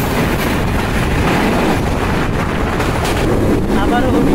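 The Kapotaksha Express intercity train runs from Rajshahi toward Khulna past Munshiganj railway station, a loud, unbroken rumble of wheels and carriages with heavy wind rush.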